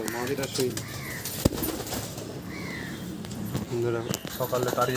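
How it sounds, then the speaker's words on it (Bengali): Malwai pigeons coo in a loft, with repeated soft throaty coos close by and a brief wing flap or clap, while someone talks over them. "এটা হচ্ছে মালবাহী পায়রা"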